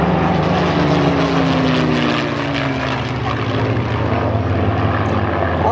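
A loud, steady drone of a propeller airplane engine at an airshow in Dala-Järna, Sweden, fills the whole clip, close and continuous, with a slowly shifting pitch.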